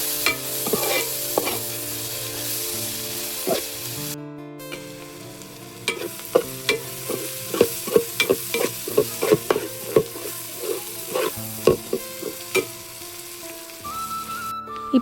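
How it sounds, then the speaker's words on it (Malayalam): Onions sautéing with turmeric in a pan, a steady sizzle broken by repeated scraping and tapping of a spoon stirring, alone with a faint tonal hum in the background. "എന്നിട്ട് നന്നായിട്ട് വഴറ്റി കൊടുക്കണം"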